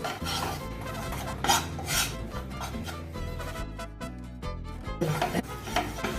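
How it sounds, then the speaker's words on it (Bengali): Gram flour (besan) being stirred in hot oil in a pan for a paneer tikka masala, with steady scraping and rasping strokes of the spoon against the pan over a continuous music bed, close and moderately loud. "ভালো করে এটাকে নাড়তে হবে যাতে বেসনটা রেডি হয়ে যায়"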